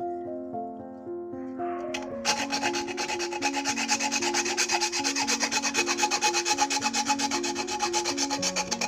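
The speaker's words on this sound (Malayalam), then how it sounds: "നമുക്ക് ആഴ്സോ ബ്ലേഡ് എടുത്തിട്ട് നമുക്കിത് നല്ലപോലെ റൗണ്ടിലൊന്ന് കട്ട് ചെയ്തെടുക്കാം" A hacksaw blade cutting a coconut shell into a round, with steady, rapid back-and-forth rasping strokes that start after a short pause and continue loudly, close up, over background music.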